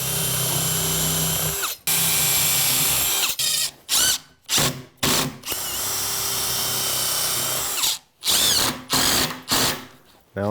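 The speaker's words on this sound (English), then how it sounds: "I'm going to go around and pre-drill with a countersink and put some screws in" A power drill with a countersink bit whirs in long runs and short bursts, stopping and starting repeatedly as screws are driven into a mudroom closet and bench build.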